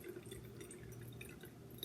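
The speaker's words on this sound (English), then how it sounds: "you can see some of the bubbles coming as I'm pouring the water in" Water is poured into a bubble lava lamp holding oil, making a faint, continuous trickle with small drips and glassy splashes, quiet and close.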